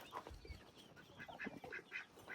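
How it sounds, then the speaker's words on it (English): Several ducks quack in a backyard chicken courtyard, a run of short, nasal calls spread across the moment at moderate distance, with no one speaking. "Them darn ducks."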